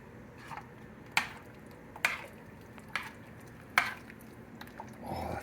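French onion soup stirred in a pot with a golden spoon, a few soft, separate clinks and scrapes spaced about a second apart, faint and close.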